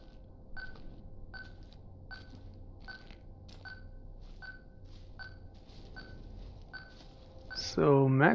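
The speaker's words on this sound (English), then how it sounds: "Tony, who keeps calling random phones that we're near." A telephone in the Proze: Enlightenment VR game rings in a steady series of about ten evenly spaced short electronic trills, moderately loud over a low background hum, followed by a louder warbling burst at the end.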